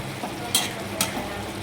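Onion curry simmers and sizzles in a pan on low heat, a soft continuous frying hiss close by, with two brief stirring scrapes and no talking.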